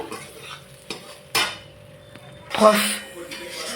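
Cut prawns frying in a pan: a low sizzle broken by a few sharp clatters of a utensil against the pan, nearby and fairly quiet, with no clear speech.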